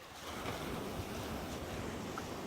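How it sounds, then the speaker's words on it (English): Ocean waves crash steadily on Laguna Beach, a continuous broadband roar of surf with some wind noise, loud and unbroken throughout, with no voices. "Hearing the waves crashing."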